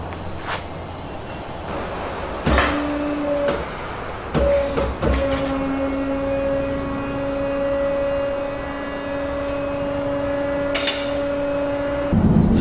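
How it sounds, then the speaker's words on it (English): A 2.5-liter turbocharged Toyota Soarer engine runs close by with a steady, sustained whine for about ten seconds, punctuated by a few sharp clicks and thumps at the start and end. "You can hear the spooling and everything."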